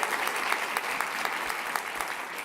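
At a food and agriculture policy summit, an audience claps steadily and densely for a couple of seconds, close and fairly loud.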